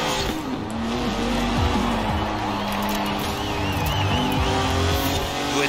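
Upgraded racing car in the video game Forza Horizon 4, driving at high speed through a corner with a sustained engine roar and squealing tires, while voices talk faintly underneath.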